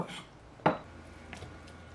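A knife slicing artichoke hearts into quarters on a board, one sharp crisp cut standing out amid quiet kitchen background, with a fainter tap later.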